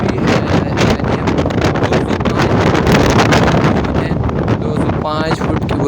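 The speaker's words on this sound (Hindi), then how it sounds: "तेज़ हवा चल रही है कि आप मेरे मोबाइल की हवा से अंदाज़ा लगा सकते हैं कि कितनी तेज़ हवा चलती है" Strong wind at a height of 205 feet over Karachi batters the phone microphone in a loud, continuous roar with gusty rumbling throughout, and a voice is faintly audible near the end.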